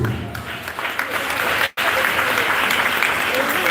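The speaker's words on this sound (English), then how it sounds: "Put your hands together with me and clap." Audience applause at a Jamaican high school graduation ceremony for the class of 2025, a dense, steady wash of many clapping hands broken by one brief cut.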